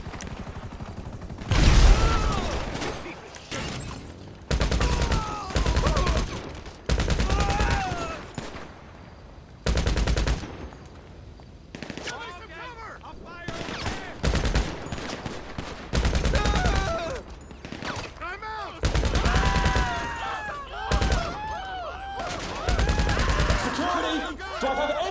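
Video game gunfire in GTA plays in repeated loud bursts of rapid shots and fusillades, separated by short pauses, with voices talking in between.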